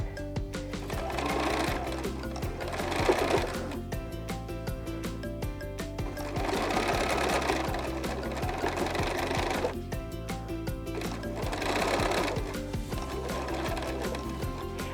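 Sewing machine stitching quilt strip sets, a fast steady mechanical whirring in close, even runs that speed up and ease off in waves across the clip.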